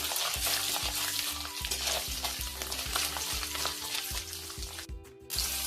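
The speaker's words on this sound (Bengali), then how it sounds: "এই নারকোলটা ভাজছি।" Grated coconut frying in oil in a pan for vegetable chop filling: a loud continuous sizzle broken by a rhythmic series of utensil scrapes and knocks, with a short pause near the end.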